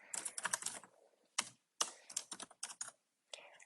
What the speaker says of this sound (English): here I will write the caption, whatever I want to write, add hashtags